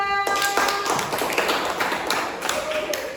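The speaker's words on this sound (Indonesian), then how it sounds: "tepuk tangan untuk Mas Reza" A small classroom group claps for a student, scattered hand claps and taps with a rapid, uneven rhythm, close and moderately loud, alongside a short tone at the start.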